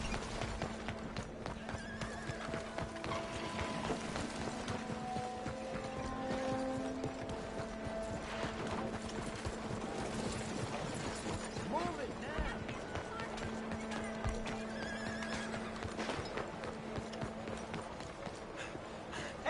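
A horse in Red Dead Redemption 2 trots with steady clip-clopping hooves and neighs over a dense game soundscape with tack rattle, while voices talk throughout.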